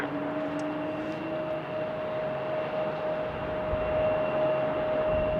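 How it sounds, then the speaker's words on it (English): A Delta Boeing 737-800 airliner takes off from runway 35, a steady, broad engine roar with a faint whine held at an even distance throughout. "taking off is Delta 2116 on the 737-800"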